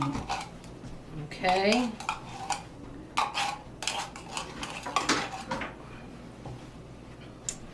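Contents being scraped out of a can in a home kitchen, with clinking metal scrapes and knocks in irregular bursts, close by, and a brief spoken word early on.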